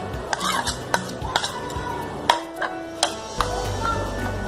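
Spiced potatoes are stirred into tamarind pulp in a metal pot, giving a string of sharp clinks and scrapes of the spoon against the vessel, close and distinct, over a soft wet background.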